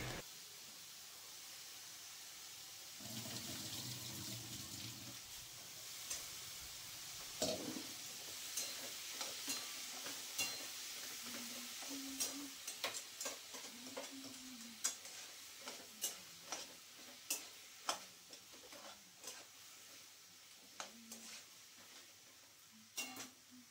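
Potatoes and brinjal stir-fry in a hot pan for a Marathi-style aloo baingan curry, a soft steady sizzle broken by repeated scraping clicks of a spatula against the pan, close and fairly quiet.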